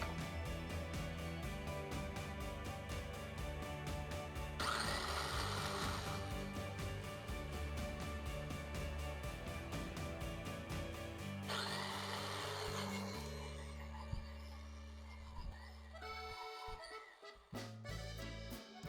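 A food processor chops onions for Persian pan kebab, its motor whirring loudly in bursts that stop and restart, then sputtering and rattling unevenly near the end.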